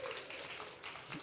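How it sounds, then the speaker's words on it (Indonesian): Applause rises from a church congregation during a sermon, a steady wash of clapping filling the whole short moment at moderate distance. "Berikan sekali lagi tepuk tangan"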